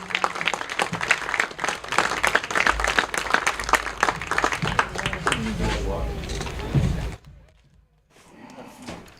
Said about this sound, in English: one more round of applause for this great group of seniors